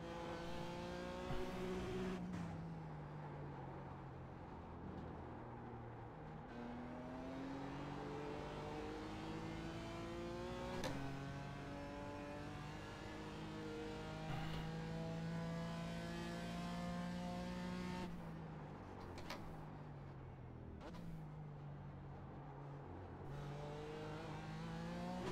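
Race car lapping the Barber circuit, its engine rising and falling through gear changes in long steady sweeps, with repeated upshifts and brief lifts, sustained and fairly close throughout.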